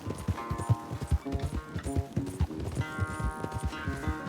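Horses gallop in a Red Dead Redemption 2 race, their hooves drumming a fast, close clip-clop rhythm, with music playing underneath and a brief voice.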